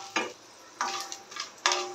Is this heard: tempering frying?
yes